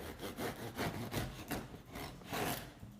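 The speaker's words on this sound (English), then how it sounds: "let's just cut this bread open" Rhythmic rasping strokes of a knife sawing through crusty bread, steady back-and-forth scraping, close and fairly quiet, with no voices.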